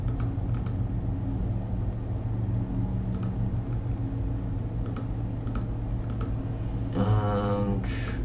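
Computer mouse and keyboard clicks in a quiet room, sharp isolated clicks scattered across the stretch with a short burst of rapid clicking near the end, over a steady low hum.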